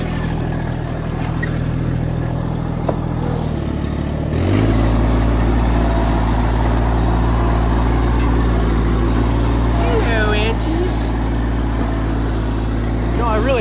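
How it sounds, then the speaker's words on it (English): Massey Ferguson GC1710 tractor loader backhoe diesel engine running steadily close by, a constant low drone that rises slightly in level partway through, with some background voice. "Now we'll get it with the tractor"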